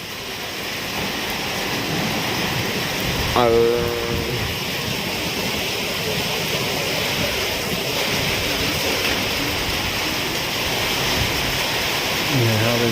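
Steady, heavy rainfall roars across the whole clip during a windy summer storm in Kok Kok, Thailand, a dense broadband wash with a brief tonal squeal and a short spoken word near the start.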